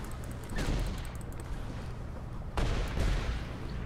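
A weapon's alternate fire in the Saints Row IV video game, heard as two heavy rumbling blasts about two seconds apart, each trailing into a low roar.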